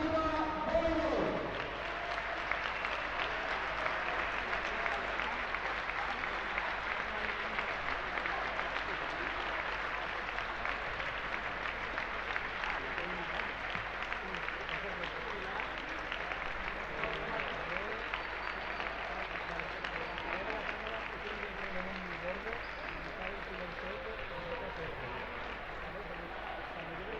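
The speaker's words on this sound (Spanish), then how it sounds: "Un fuerte aplauso a Family Class, Xàtiva Voleibol femenino" A large audience gives sustained, loud applause for the Family Class Xàtiva Voleibol women's Superliga 2 team as it parades at a season presentation, with dense clapping that holds steady throughout.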